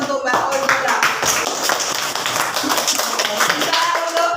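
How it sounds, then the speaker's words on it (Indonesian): A sixth-grade class claps enthusiastically, quick overlapping claps filling the classroom, with voices mixed in among the applause. "Mari beri tepuk tangan yang semangat untuk Mbak Olivia"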